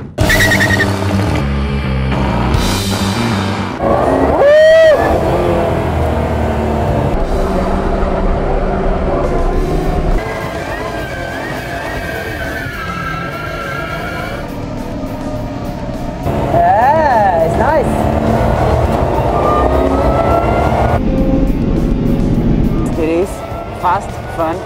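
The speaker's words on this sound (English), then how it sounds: "So today we are here in the racetrack to drive the CX-75, the villain James Bond car." A Jaguar C-X75, the Spectre film car, is driven on a racetrack in Mexico City, with engine roar rising and falling through gear changes and passes while someone talks over it throughout.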